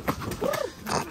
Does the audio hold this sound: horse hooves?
yes